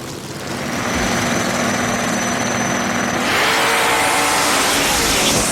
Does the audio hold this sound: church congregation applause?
no